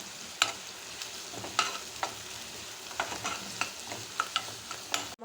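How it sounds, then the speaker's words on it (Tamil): Onion, green chili, curry leaves and crushed garlic sautéing in a pan, a soft continuous sizzle punctuated by repeated quick spatula scrapes and taps, fairly quiet and close. "இந்த பூண்டு வாசனை பச்சை வாசனை போகிற வரைக்கும் வதக்கிக்கலாம்"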